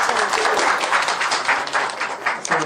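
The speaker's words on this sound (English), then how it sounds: "Another round of applause." An audience at a live-streamed mental health event bursts into dense, steady applause of many hands clapping close by, continuing without a pause.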